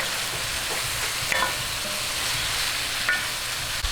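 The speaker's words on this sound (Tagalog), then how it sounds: "hintayin lang po natin magisa-gisa hanggang sa mag-light brown yung ating chicken at lumabas yung kanyang juice." Chicken sizzles steadily in a hot pan while being sautéed for Kapampangan bringhe, a close, even frying hiss with a couple of faint utensil clinks from stirring.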